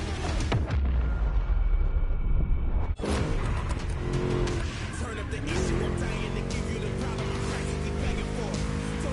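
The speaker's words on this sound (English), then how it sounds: "Just listen to that V8, like a chunky, down-tuned guitar riff" A V8 car engine revs hard while racing in The Crew, a loud, dense roar that breaks off for a moment and then comes back with rising tone, mixed with game sound.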